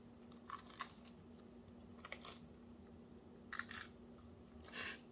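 Homemade baguette-style bread with a crisp crust is bitten into and chewed, heard as a few scattered, faint close crunches and one louder crackle near the end, with no talking.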